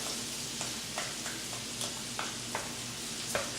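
Butter and chopped onions sizzle steadily in a pan as garlic goes in, with a constant frying hiss broken by several light stirring scrapes and clicks.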